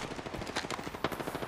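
Rapid automatic gunfire from an Apex Legends match crackles in dense bursts, with sharp individual shots punching through a continuous rattle.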